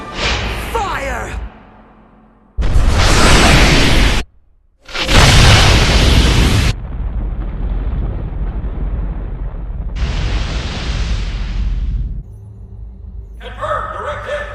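Loud spaceship main cannon blasts and a booming explosion from an anime battle roar in heavy bursts with sharp gaps between them, mixed with a rushing whoosh and some talking.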